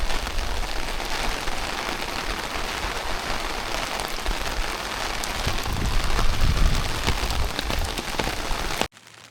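Heavy rain pours steadily during a visit to a home in Japan, a dense, loud wash of drops drumming on surfaces throughout, swelling slightly near the end before cutting off abruptly.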